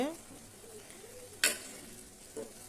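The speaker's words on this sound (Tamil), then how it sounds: "ஒரு ரெண்டு நிமிஷம் நல்லா வதக்கிட்டுருக்கிறேன்" Chicken sautéing in a pan for a chicken curry gives off a faint, low sizzle. A single sharp spatula scrape cuts through it, a softer knock follows, and a brief voice is heard at the start.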